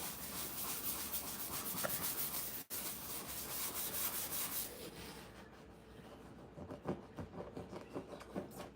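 Steady rubbing and scratching at a grimy surface during a non-toxic clean-up, close and continuous with a short gap, then turning into a looser, rhythmic scrubbing toward the end; no talk.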